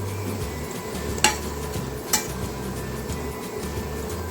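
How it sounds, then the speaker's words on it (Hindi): Litti (baati) dough balls fry in a pan over a medium flame, a steady soft sizzle broken by two sharp clinks of a utensil against the pan. "देखिए कितना बढ़िया फ्राई हो रहा है"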